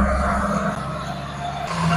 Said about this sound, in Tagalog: Medyo malakas lang yung idle niya kasi cold start pa to.